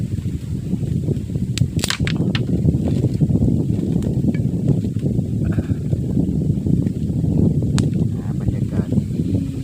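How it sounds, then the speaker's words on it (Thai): Strong wind blowing across open rice fields outdoors, a steady loud low rumble buffeting the microphone throughout with a few brief sharper clicks. "ลมก็แรงนะครับเนี่ย"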